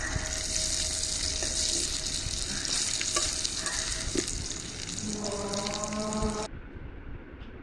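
Banana flower fritters sizzle steadily in hot oil in a pan, with a continuous crackling hiss and occasional scraping or turning sounds. The sound cuts off sharply near the end and no one speaks.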